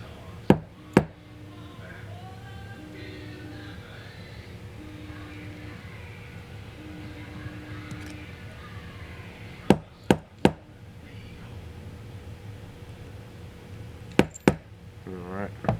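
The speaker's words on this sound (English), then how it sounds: "not gonna hurt the carburetor tapping it like that" Flathead screwdriver tapping the choke butterfly of a Honda GX carburetor: sharp metallic knocks, a pair near the start, a quick cluster around ten seconds and another pair near the end, over a steady low background hum.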